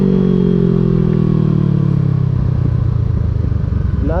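A motorcycle engine is held at about 3,500 rpm and then bogs and chugs as the clutch is let out for a beginner wheelie, loud and close with a rising rattling pulse at the end.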